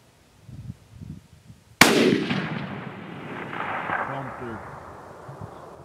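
A single 6.5 PRC rifle firing a 156-grain Berger EOL bullet at a deer outdoors, one sharp, very loud crack followed by a long rolling echo, with quiet murmured voices just before and talk afterward.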